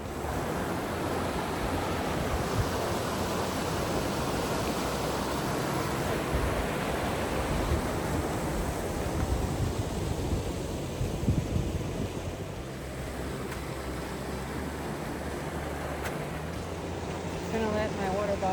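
A river flows in the Sierra Nevada mountains as a steady, full rushing wash of water that holds nearly constant close to the microphone, with a little wind noise mixed in.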